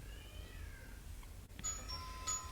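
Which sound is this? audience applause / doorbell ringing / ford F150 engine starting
doorbell ringing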